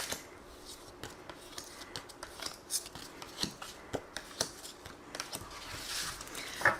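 Tarot cards being drawn and handled, with a scattered series of soft snaps, slides and light clicks close by, irregular in rhythm and with no talking.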